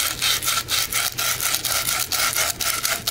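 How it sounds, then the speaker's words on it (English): Rhythmic back-and-forth scraping of sandpaper on a hard pipe end, close and steady, each stroke briefly pausing before the next. "sanding the end of this because you want a smooth surface."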